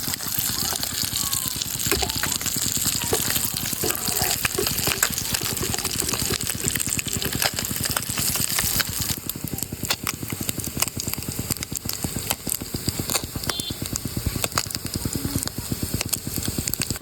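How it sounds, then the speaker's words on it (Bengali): Jatka, young hilsa fish, fry in hot oil, producing a steady, close, crackling sizzle with a rapid bubbling texture that holds at an even level throughout. "বন্ধুরা দেখুন কি সুন্দর ভাজা হচ্ছে।"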